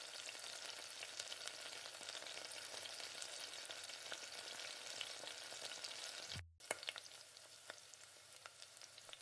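Chicken 65 pieces fry in oil in a pan while being turned, a constant faint crackling sizzle with light spoon clicks, a brief gap before the frying resumes.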